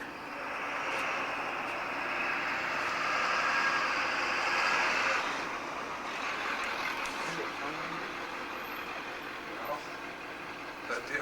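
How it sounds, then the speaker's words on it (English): Truck engine in Virginia City, Nevada, in 1996, a loud low rumbling drone that swells to a peak midway and slowly fades as it passes, with voices in the background. "That damn truck was making so much noise."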